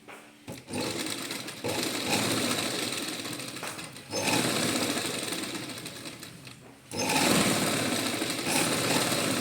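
A sewing machine runs in three long continuous bursts with brief pauses between them, stitching a zip onto a suit; the motor whirs loudly and steadily at close range with no talking.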